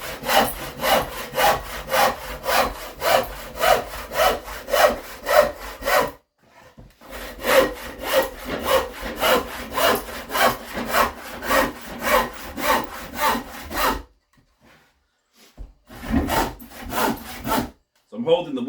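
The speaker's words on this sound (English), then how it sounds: "Just be careful when you're doing this not to saw into your sawhorse." A hand saw cuts timber offcuts resting on a sawhorse in steady, loud back-and-forth strokes, two long bursts separated by a brief pause, then a few final strokes before stopping.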